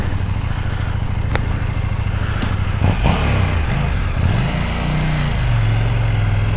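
A KTM 790 Duke motorcycle engine revs and pulls away up close, its drone rising and falling through a couple of throttle blips before settling into a steady, loud note.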